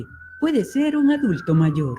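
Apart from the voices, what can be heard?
ambulance siren passing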